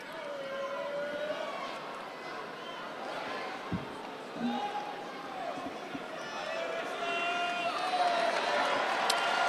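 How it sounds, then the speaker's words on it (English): Crowd cheering at a judo Paris Grand Slam event in an arena, a broad roar that swells and builds toward the end, with a commentator talking over it. "Now we'll hear the crowd. Talk about crowd participation."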